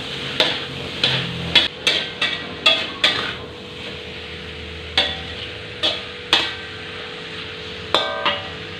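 Tofu stirred with soy sauce in a hot pan, with a close series of sharp scraping clanks from the utensil at uneven intervals over a low sizzle.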